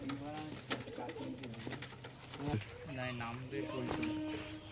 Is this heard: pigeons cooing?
yes